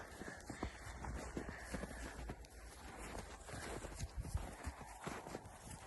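Hooves of a heavy draft mare clip-clop steadily at close range on hard ground, a continuous walking rhythm with background rustle and no talking.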